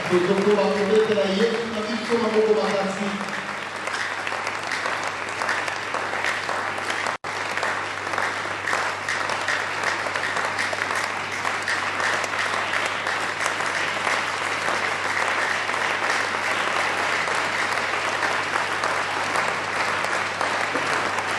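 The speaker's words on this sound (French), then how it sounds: "Continue à acclamer le Seigneur" A congregation at a prayer night applauds to acclaim the Lord, with dense, sustained clapping from a crowd that holds steady for about twenty seconds, while a voice and singing are heard briefly at the start.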